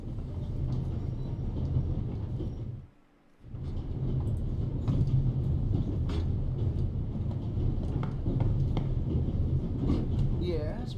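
A steady, loud train rumble with a brief dip partway through fills the scene inside a train in The Raven Remastered, continuous and close, with no voices over it.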